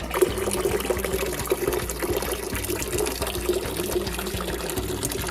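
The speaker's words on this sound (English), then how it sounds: "And then spigot, where I get water." Water pours from an outdoor spigot at a rural home in Rwanda in a steady, moderately close trickle with soft splashing and no talk.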